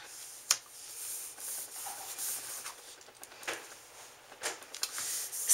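Paper edge of a notebook cover being trimmed, soft scraping and rubbing strokes with a few sharper cuts, close and quiet, with no talking.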